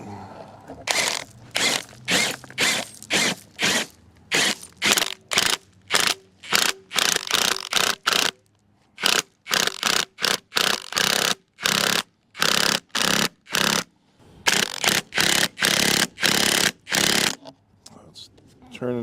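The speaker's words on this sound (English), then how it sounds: "Start screwing it in with our impact driver here." An impact driver with a 1-inch socket screws an American Earth Anchor into the ground in rapid, loud bursts of hammering, with short pauses between runs.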